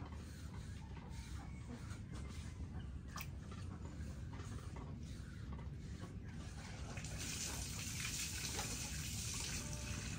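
Water runs and gushes steadily over a stone grinding slab and pestle (pata puta) being washed in a village kitchen, growing louder and brighter near the end.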